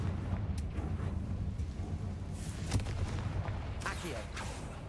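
Confringo blasting spells in Hogwarts Legacy go off as a few sharp explosive bursts over a rumbling game background, with one bang early and more spaced blasts toward the end.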